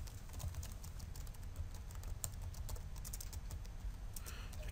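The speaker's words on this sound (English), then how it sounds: "as I type" Someone types on a computer keyboard, soft quick key clicks rattling in an uneven stream, faint and close over a low steady room hum.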